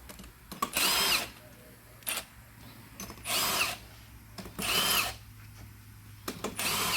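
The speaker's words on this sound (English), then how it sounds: "You and your fancy power tools." Bursts of a power tool whirring, roughly four or five runs of a second or so each, separated by short pauses and small knocks.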